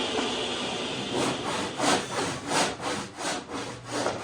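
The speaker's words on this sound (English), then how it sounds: "what I'm using here is a Distin & Sons number 12 panel saw" A Distin & Sons number 12 panel hand saw cuts through rough walnut in steady, rhythmic back-and-forth rasping strokes, close and loud.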